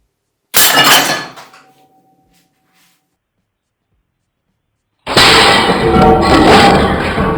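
A homemade coilgun fires at an unsupported ceramic board, giving a sharp loud crack and brief crash that rings down, then a long silence before a second dense burst of clattering noise.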